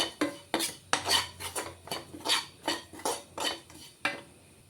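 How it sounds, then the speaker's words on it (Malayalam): Masala with coconut being stirred in a pan, a rhythmic run of about a dozen scraping spoon strokes against the metal, close and clear with no talking. "എന്നിട്ട് വീണ്ടും നന്നായി ഇളക്കി കൊടുക്കുക."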